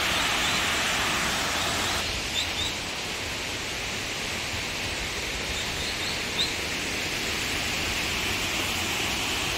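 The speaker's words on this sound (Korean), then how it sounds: "와, 물소리가 굉장히 웅장하게 들려요" Rushing water from Cheonjeyeon waterfall on Jeju fills the scene as a broad, constant roar, loud and unbroken, with a faint bird chirp or two above it.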